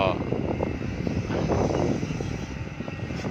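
An old Kobelco SK200-5 excavator engine runs with a steady, rumbling drone that stays constant throughout, while someone talks over it.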